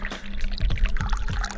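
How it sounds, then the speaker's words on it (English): Green tea poured in the video game Dave the Diver, a short trickling stream of liquid filling a cup, close and steady for under two seconds with faint game tones behind. "Have you perhaps poured green tea before?"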